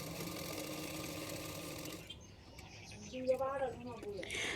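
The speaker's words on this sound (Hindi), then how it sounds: "पीछे की तरफ फोल्ड करके मैं सिलाई कर रही हूँ।" Domestic sewing machine stitching a folded-back edge on a beginner's prince-cut blouse, a steady whir for about two seconds that then stops, followed by quieter handling sounds.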